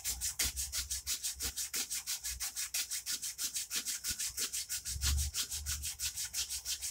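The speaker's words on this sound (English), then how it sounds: "Just a whole lot of sanding." Steady back-and-forth rasping of oiled sandpaper on a metal knife blade, a fast even rhythm of strokes continuing throughout, close up and moderately loud.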